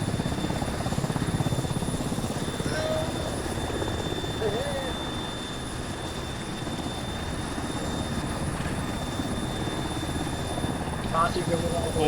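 A medevac helicopter idles or hovers nearby during a military-style field operation, its steady rotor and engine drone running constantly with a faint high whine, while voices speak intermittently over it.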